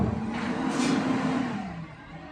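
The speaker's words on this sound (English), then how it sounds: "there's a garbage truck driving past my house" A garbage truck passes outside a house, a steady broad rumble with a low droning engine note holding throughout, heard from indoors at moderate distance.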